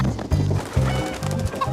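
Chickens clucking close by in a short run of four or five low, rhythmic clucks, fairly loud and with no talking.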